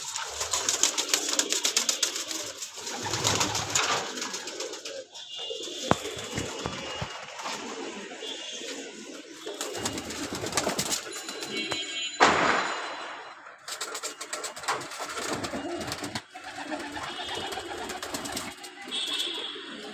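Young pigeons in a loft coo and call almost continuously, close and fairly loud, with occasional wing flutters and a knock or two of wood in the background.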